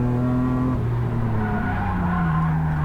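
An E36 rallycross car slides in big oversteer through a bend, tires squealing over a loud, sustained engine drone whose pitch sags then settles as the slide carries on.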